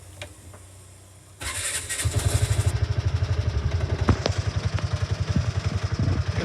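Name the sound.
Piaggio Ape City tuk tuk engine starting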